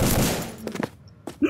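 Gunshots in the zombie shooter game Codename CURE: a burst of sharp reports, two close together then another pair a moment later, loud and near over a fading noisy blast.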